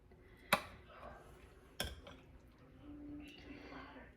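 While rice and gravy are served, a rice spoon strikes the dish in two sharp, separate clinks over quiet kitchen background noise.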